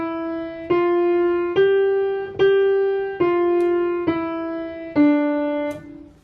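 A piano plays the opening notes of Beethoven's Ode to Joy from his Ninth Symphony as a simple single-line melody. Seven or eight clear, close, evenly paced notes each ring and fade briefly, with no talking.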